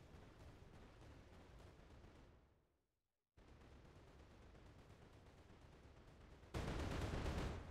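Explosion sound effects fire at a character's footsteps in Unreal Engine 5, giving a dense, continuous crackling roar that drops out briefly to near silence, then returns and swells louder near the end.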